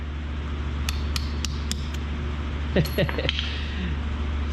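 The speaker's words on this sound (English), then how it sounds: "he's gonna use a hammer and a bolt, pack it in there" Several sharp metallic hammer strikes on a bolt ring out over a steady engine-bay hum of a 3rd gen 4Runner's 3.4L 5VZ-FE engine, followed by a short burst of clanking and a voice.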